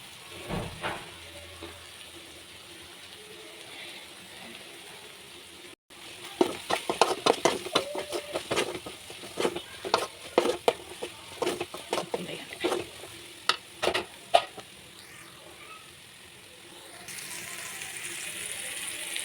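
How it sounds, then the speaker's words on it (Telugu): Amaranth leaves (thotakura) frying with chili powder in a home kitchen, a low sizzle broken by a brief gap, then a run of sharp scraping and clattering stirring strokes before settling back to a soft fry. "తోటకూర ఫ్రై అయితే రెడీ అయిపోయింది ఫ్రెండ్స్."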